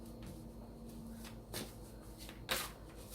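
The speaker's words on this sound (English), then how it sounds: "Let's just shuffle the cards." Tarot cards, a Druid Craft deck, shuffled by hand in a couple of soft swishing bursts over a steady background hum, quiet and close.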